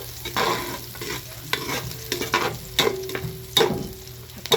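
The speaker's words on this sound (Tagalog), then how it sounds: "Igisa po natin" Ingredients for Filipino dinuguan stirred and sautéing in a hot pan, with a steady sizzle broken by repeated scraping stir strokes and clinks of a utensil, close and moderately loud.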